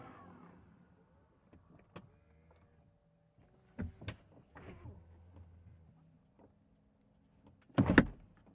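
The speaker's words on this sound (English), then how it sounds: "And I'll open the door." A Porsche Cayenne Coupé Electric's powered door mechanism whirs and clicks, with soft mechanical thumps and a louder latch clunk near the end.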